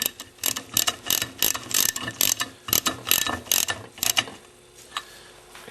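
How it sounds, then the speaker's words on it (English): A ratchet with a socket snugs down bolts on an E 60 pump, quick bursts of sharp clicking strokes close up, pausing briefly between turns. "Use a socket to snug these down"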